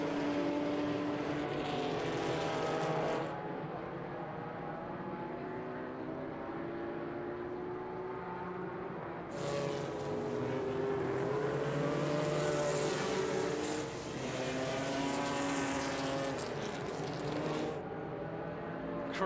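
A 1973 Datsun 260Z race car's engine howls loudly out of the corkscrew during vintage Group 5 qualifying, a sustained revving roar that drops briefly and surges again as it passes close by.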